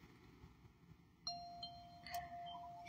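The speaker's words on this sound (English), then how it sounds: "Okay, somebody else ring the doorbell." A doorbell chimes twice in the Roblox game Bloxburg, a bright two-tone ding-dong over a low background murmur, with a second ring following about a second later.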